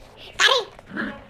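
A pet dog named Kari gives one sharp, close snort or sneeze-like huff, followed by a softer breathy puff a moment later, in an otherwise quiet room.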